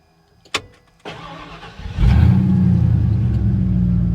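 A sharp click, a brief cranking starter, then a Ford F150 pickup engine catches and settles into a loud, steady close idle rumble.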